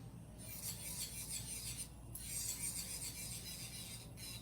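A hand file rasps against the base of an acrylic nail in steady back-and-forth strokes, close and quiet, with brief pauses between passes.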